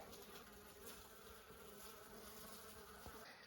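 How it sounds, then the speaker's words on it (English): Bees or wasps buzz steadily around an off-grid homestead, a faint, continuous droning hum with no talking, occasional louder passes as insects fly near. "I don't know if these are bees or wasps."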